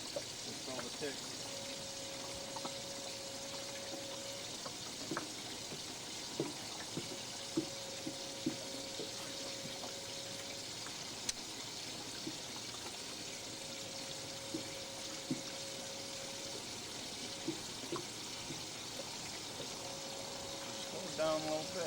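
Water runs steadily into a boat's livewell holding white bass on the Tennessee River, a soft continuous trickle with small splashes and clicks, while voices talk faintly nearby.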